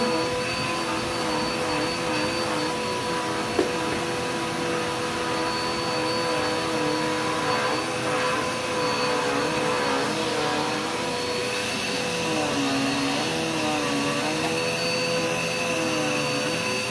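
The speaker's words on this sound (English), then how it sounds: "I got to vacuum my living room area" A vacuum cleaner runs continuously for the whole stretch while a living room and closet area are vacuumed, a steady loud motor whine with a shifting pitch as the nozzle moves over the floor.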